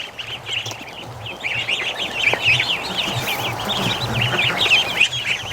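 Young Muscovy ducklings peep and chirp continuously outdoors, a busy, overlapping chorus of thin high calls close to the microphone over low background noise.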